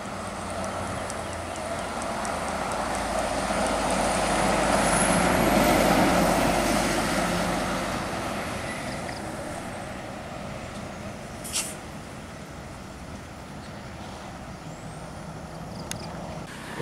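A fuel tanker truck passing along a road, its engine rumble swelling as it approaches and fading away, followed by quieter traffic ambience with a couple of sharp clicks.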